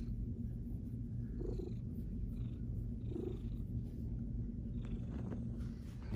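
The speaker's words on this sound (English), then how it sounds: "Oh, the purr is back." A sick cat purrs steadily and close up, a low continuous rumbling with faint soft rustles over it.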